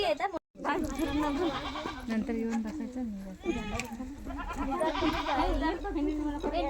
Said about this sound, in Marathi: ही बकरी खाते भाजी